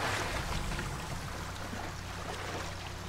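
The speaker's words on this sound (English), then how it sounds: "Oh yeah, you climb that waterfall." Waterfall in Assassin's Creed Odyssey near a ruined temple, a steady broadband rush of falling water, fairly quiet and continuous, with no voices.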